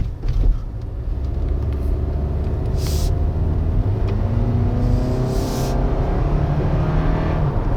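A 2020 Toyota Camry XLE accelerates on a country road, heard as a steady, loud low rumble of engine and road noise with rising tonal bands, continuous throughout with no speech.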